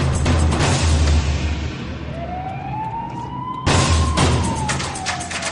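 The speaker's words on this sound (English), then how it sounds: "sound their sirens in a bid to get the man to slow down and pull over" A police siren wails steadily over loud rushing road and engine noise, rising and falling as it passes during a police pursuit in Thailand.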